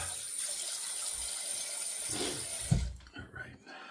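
A shaving razor fitted with an Artist Club blade being rinsed under a tap: steady, close running water that stops abruptly near the end, followed by a few brief knocks and splashes.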